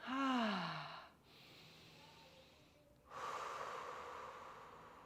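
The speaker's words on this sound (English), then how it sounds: "And then just breathing." Slow, audible breaths during a seated chair hip external rotation stretch: a long sighing exhale first, then a quieter airy breath and another fuller breath, close to the listener with no talking.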